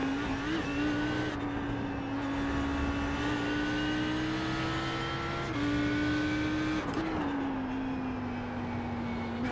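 A race car engine drones at Spa in the iRacing simulator, a steady high-revving whine that holds pitch for long stretches with brief shifts and small dips, alone and close.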